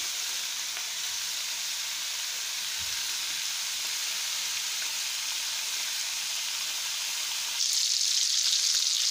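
Pork sizzling steadily in a hot pan as it browns for pork adobo, a constant close frying hiss throughout that swells a little louder near the end, with no talking.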